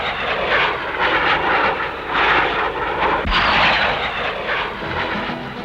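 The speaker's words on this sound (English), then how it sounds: "including the de Havilland Comet 36-seater 4-engine jetliner." A de Havilland Comet four-engine jetliner roars past at an air show, a loud, sustained jet rush that swells and shifts as it crosses overhead.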